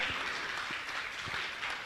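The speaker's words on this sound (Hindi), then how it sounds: "तालियां बजाइए आप।" An audience at a Jain religious gathering applauds continuously, a dense, even wash of clapping with no pauses across the short moment.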